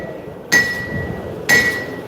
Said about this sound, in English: I'm letting the hammer do its own thing